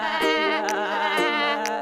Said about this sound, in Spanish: la oveja hace be